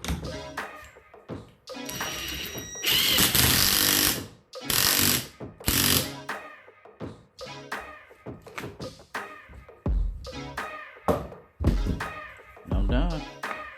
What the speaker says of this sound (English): with an impact gun.